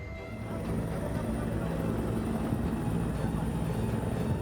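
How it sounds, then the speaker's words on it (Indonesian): A Kamov helicopter airlifts a damaged Sam Air plane out of Kenyam district toward Timika, giving a steady, fairly loud rotor and engine drone that holds even throughout with no pauses. "pesawat dievakuasi dengan cara diangkat menggunakan helikopter Kamov dari distrik Kenyam menuju Timika"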